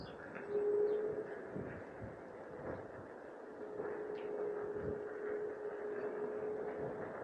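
A tourist train in Kiotari, Rhodes, rumbles past with a steady low engine drone and a faint sustained tonal whine, moderately distant, with no talking.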